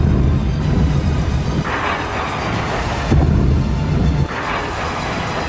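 Two deep, rumbling explosion blasts in Kyiv during the Russia-Ukraine war roll out one after another, each a loud low-frequency boom that lingers and fades into a wind-like roar.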